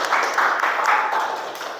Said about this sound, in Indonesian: kita beri aplaus untuk teman-teman yang menjawab